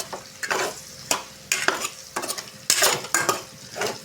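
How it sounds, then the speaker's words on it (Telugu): Ivy gourd stir-fry with turmeric and chili powder being stirred in a pan: repeated scraping strokes of a spoon over a steady sizzle, close and fairly loud, with no voices. "ఇప్పుడు కలిపెట్టుకోవాలండి బాగా ఫ్రెండ్స్."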